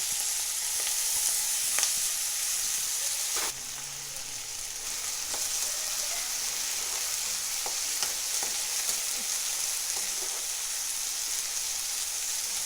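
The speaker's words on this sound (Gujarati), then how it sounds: "હવે આપણું લસણ બ્રાઉન થઈ ગયું છે, તો વાલોડ એમાં નાખી દઈશું." Valor beans are tipped into hot oil with browned garlic and chillies, setting off a loud, steady, hissing sizzle that carries on throughout with a few faint clicks and stirs, close up and without talk.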